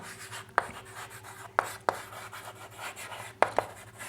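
A pen writes out a linear equation on paper or a board during a maths lesson, giving soft scratchy strokes with a few sharper taps, quiet and close, with no talking.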